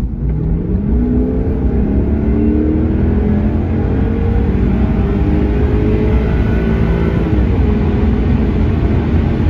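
A Jaguar XK8 pulls away from a roundabout, its engine note climbing steadily through the revs, loud and close from inside the car, with no talk over it.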